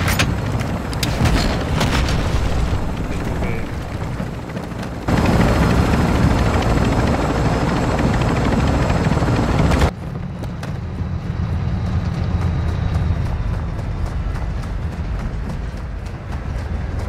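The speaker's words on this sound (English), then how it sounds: "that helo is fueled and ready to provide exfil" Exfil helicopter in Call of Duty DMZ, its rotor thumping and turbine roaring loud and continuous throughout, shifting in intensity partway and then settling into a steadier whir.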